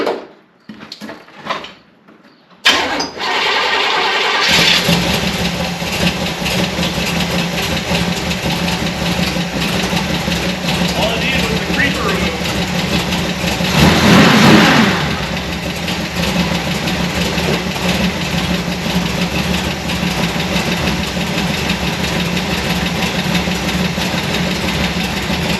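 A 1966 Chevrolet Biscayne engine idles steadily after a cam break-in, its continuous low rumble carrying a faint ticking lifter noise, loud and close with no talking.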